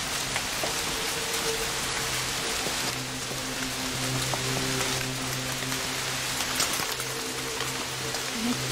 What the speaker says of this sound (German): Regen ist immer noch da